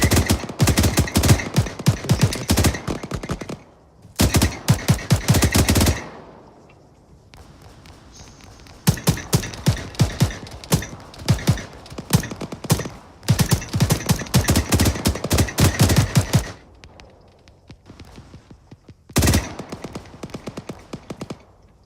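Heavy automatic gunfire from a squad opening up in a military shooter game, loud dense bursts of rapid shots repeating in several long volleys separated by brief quieter gaps, with no talk over it.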